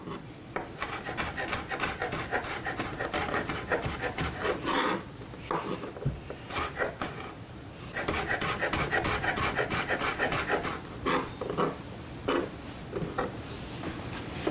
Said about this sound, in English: So we're going to cut the garlic up fairly small.